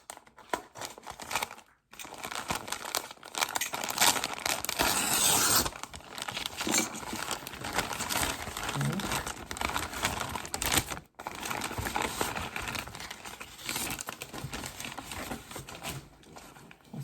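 Crinkly plastic wrapping crackles and rustles as a package is unwrapped indoors, a busy continuous crumpling that carries on for most of the stretch with a couple of brief pauses.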